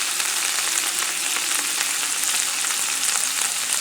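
Salmon fillet sizzling steadily in a hot pan after white wine is poured in, a dense, continuous close-up hiss and crackle with no pauses and no talking.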